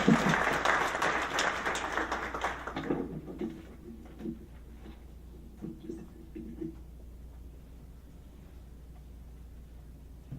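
Applause at a public meeting, a dense round of clapping loud for the first three seconds, then thinning into scattered claps and murmuring voices that fade toward the end.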